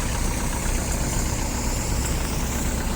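A Kubota X-20 tractor engine runs steadily at idle close by, a constant low rumble and vibrating drone with no breaks and no voices over it.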